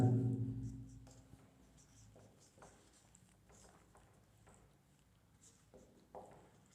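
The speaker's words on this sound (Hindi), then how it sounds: "तो टॉपिक लिख लेते हैं हम" Chalk or pen writing a topic heading on a board during a Hindi physics lesson on spherical capacitors, heard as a string of short, soft scratchy strokes at close range with no talking over them.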